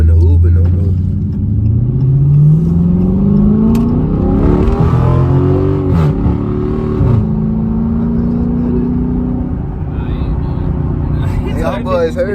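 Straight-piped Dodge Hellcat Charger engine revving close by, a loud rumbling idle climbing in several rising pulls, with people talking over it throughout.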